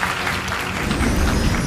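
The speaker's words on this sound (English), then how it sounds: "a big round of applause to all of these winners in our live chat" An audience at an awards ceremony applauds, a loud dense patter of many hands clapping steadily throughout with no break.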